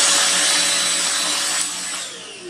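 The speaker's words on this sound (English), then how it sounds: "So as it's only this particular device, our vacuum cleaner, it has only single level of speed. So we'll go to the maximum speed" An OSMON OS 1400BL bagless vacuum cleaner running at its single maximum speed, a loud steady whine and rushing airflow close by that eases off slightly near the end, with no one talking.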